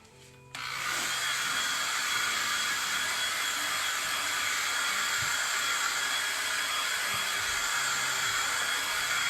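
A hair dryer blows steadily on silkscreened icing over decorated Christmas sugar cookies, switching on after a brief quiet moment and then running loud and constant, a broad close airy whoosh with no talking.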